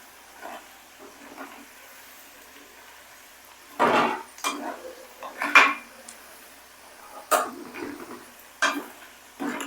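Chicken pickle stirred with a utensil in a pan on the stove gives sparse, quiet clinks and scrapes in short bursts, a few louder strokes against the metal, with no talking.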